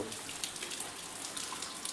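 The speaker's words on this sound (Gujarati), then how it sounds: "અને અત્યારે આવ્યા છે નળ તો જો ઉપર જાય છે ટાંકામાં પાણી" Tap water gushing steadily into an overhead storage tank, a continuous broadband splashing rush at moderate level with no talk.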